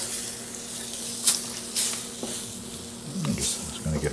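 Onion gravy thickened with flour bubbling and sizzling in a pan as it is stirred, with a few scraping strokes and soft hisses over a steady frying background.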